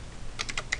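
Computer keyboard keys tapped during a programming session, a brief burst of about five crisp keystrokes in quick succession, fairly close and clear.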